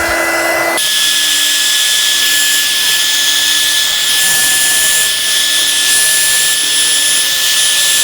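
Heat gun blowing hot air onto the adhesive of a Samsung Galaxy S22 camera cover, a steady loud whine with a constant high tone running the whole time after a brief start.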